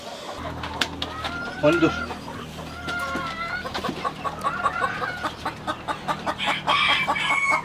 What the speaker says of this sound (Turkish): Kurt tavuğum benim.